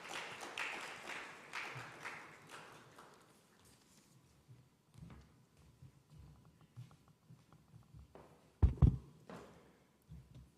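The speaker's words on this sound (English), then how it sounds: "Ladies and gentlemen, applaud for him as he takes on a stage." An audience at a fintech awards event claps for a speaker taking the stage: scattered applause that fades into sparse taps, ending with a couple of loud thumps.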